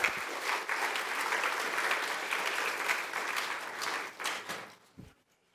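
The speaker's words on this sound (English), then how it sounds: "So please give him a round of applause." An audience at an engineering co-op session claps steadily for about five seconds, a full even patter that thins and fades out near the end.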